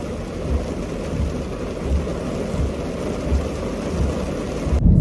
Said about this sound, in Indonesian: Ternyata pas lagi turun hujan juga.